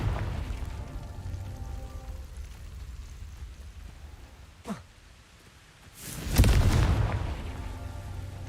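A Confringo fire spell in Hogwarts Legacy makes a quick whooshing streak, then after a short pause lands in a loud, booming explosion with a rumbling tail.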